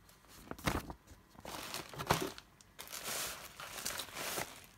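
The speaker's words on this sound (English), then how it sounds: "Here's some vintage wrapping paper." Vintage wrapping paper being handled, giving bursts of crisp crinkling and rustling that come and go in uneven waves, close and fairly quiet, with no speech.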